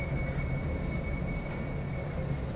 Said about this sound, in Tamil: போர் மோட்ரு வந்து இப்போ ஆன் ஆகிடுச்சுங்க.